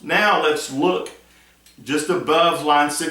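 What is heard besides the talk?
None of the usual background noises is heard.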